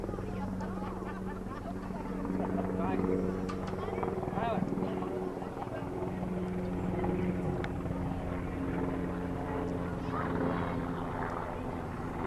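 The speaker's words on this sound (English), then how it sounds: "Chopper going by." A helicopter passes over an outdoor youth baseball game, its low rotor drone rising and fading over about twelve seconds while a commentator talks throughout.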